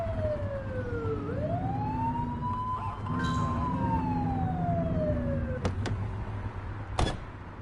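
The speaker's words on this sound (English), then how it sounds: "Get behind them and blip the siren to make them pull over." A police car siren in a video game wails in a single gliding, rising and falling sweep, followed by two short sharp blips, loud over engine rumble.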